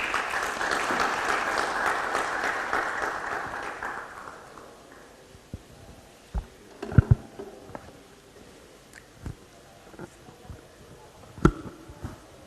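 An audience at a World Press Freedom Day event claps warmly for several seconds. The applause then fades into scattered taps and faint room sounds.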